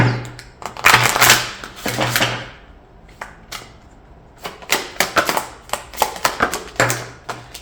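Crisp riffling and slapping of tarot cards being shuffled, in quick bursts with short pauses, close by and fairly loud.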